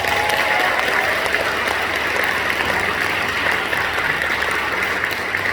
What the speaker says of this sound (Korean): 결혼을 잘 했다고 생각하시는 분들 박수 주세요